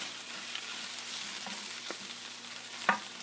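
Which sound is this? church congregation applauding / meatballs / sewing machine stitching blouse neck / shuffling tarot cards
meatballs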